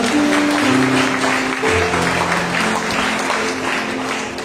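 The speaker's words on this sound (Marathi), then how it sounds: "प्रभू यीशूला मोठ्याने टाळ्या वाजवूया आपण." A church congregation claps loudly in praise. The dense, sustained applause fills the room for several seconds, with a faint held tone underneath.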